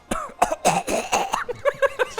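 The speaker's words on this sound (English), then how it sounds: "I was gonna cough and then I tried to turn it into a funny cough" A series of harsh, throaty coughs, close and fairly loud, breaking into a few short choppy bursts that sound half forced.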